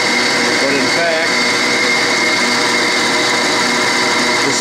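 A shop machine's chuck spins at 803 RPM, giving a steady, even mechanical hum with a high whine that runs unchanged through the whole stretch, and a voice briefly cuts in near the start.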